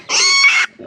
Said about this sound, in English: Squealing baby pigs.